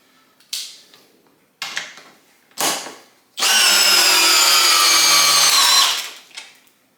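A Milwaukee compact drill on high with a 2 amp hour battery drives a 1/4 by 5.5 inch lag screw: three short bursts, then a loud, sustained whining run of about two and a half seconds, close up, ending in a brief tail.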